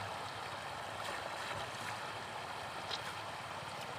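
Irrigation water pours into a castor field in an even, unbroken rush that stays close and steady throughout.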